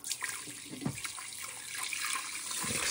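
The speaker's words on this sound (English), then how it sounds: "So I'm just going to pour this into the rice cooker." Water pours steadily into a rice cooker holding two cups of rice, a soft continuous splashing and trickling that grows slightly fuller toward the end.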